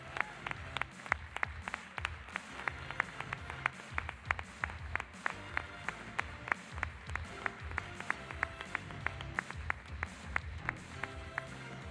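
Sparse, distinct claps from a small audience at a corporate award ceremony, individual hand claps audible as separate sharp hits in an uneven rhythm, moderately quiet and continuing throughout.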